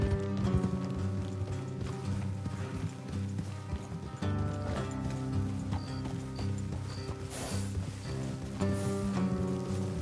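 Horse hooves clip-clop steadily on a trail in the video game Red Dead Redemption 2, a continuous rhythmic patter under a loud, sustained musical score.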